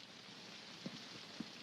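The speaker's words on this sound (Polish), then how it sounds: "W tej ulewie można utonąć, nie tylko zabłądzić." A heavy rain downpour hisses as a steady, dense wash of sound with a couple of soft thuds, heard alone for a brief moment.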